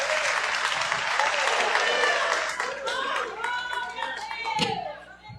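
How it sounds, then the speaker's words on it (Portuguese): A church congregation applauds during a service, with dense clapping that thins out toward the end while voices call out over it. "Você pode aplaudir ao Senhor Jesus nessa noite?"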